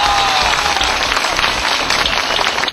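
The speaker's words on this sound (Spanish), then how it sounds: "se merece, creo que un fuerte aplauso de todos los villamarianos" A large outdoor crowd in Villa María claps loudly and continuously for the president at a club event, a thick, even roar of applause with faint cheering mixed in, cutting off at the end.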